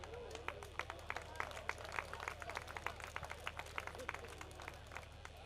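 Audience at a fashion show clapping faintly in the distance, scattered individual claps forming a loose, uneven patter over a low background hum.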